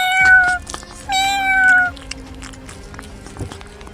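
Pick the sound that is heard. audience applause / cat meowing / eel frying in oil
cat meowing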